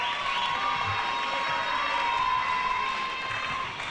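Spectators fill an indoor gym during a women's under-22 volleyball final with a continuous wash of crowd noise: cheering, shouting and scattered clapping blended into a steady, fairly distant roar.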